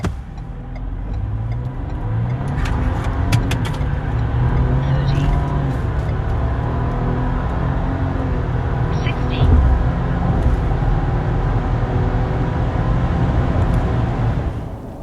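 A 2025 Ford Ranger with a 2.7L V6 twin turbo pulls hard from a standstill at about 4,700 feet elevation, its loud engine drone climbing repeatedly in pitch through several gear changes, heard steadily from inside the cabin.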